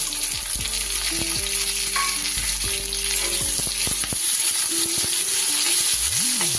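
Chopped onions frying in hot oil for restaurant-style chilli chicken, a steady close sizzle with stirring scrapes and clinks throughout, no talking.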